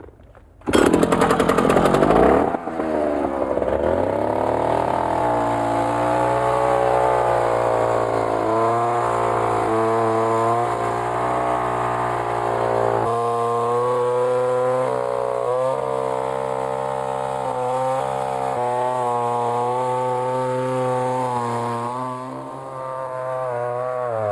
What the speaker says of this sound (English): Ralph can saw through these with a big masonry saw that we have here